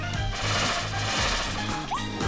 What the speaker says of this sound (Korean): 지금 폭탄 떨어진다 갑자기 터진 폭탄